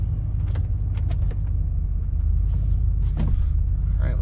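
A surplus Chevrolet Suburban's engine running while parked: a steady, loud low-pitched rumble that never lets up, with a few faint clicks and creaks over the top.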